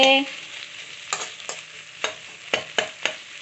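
Ridge gourd curry with chili powder is stirred in a pan, a spoon scraping in about six distinct strokes over a steady soft sizzle.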